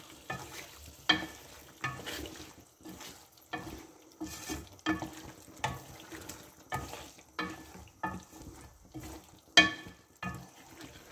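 Whole spices, ground cumin, ground coriander and bay leaf fry in a pan for chicken matar pulao, a soft steady sizzle broken by regular scraping strokes of a stirring spoon, close up and without talk.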